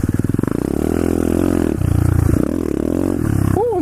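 Loud, close pit bike engine while riding, its pulsing putter rising and falling in pitch as the rider shifts and revs, with a brief high squeal near the end.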